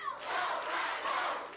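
Wrestling arena crowd at a 1996 USWA television show chanting in unison for Brian Christopher, a brief, fairly distant, roaring rhythmic chant that swells and holds without commentary over it.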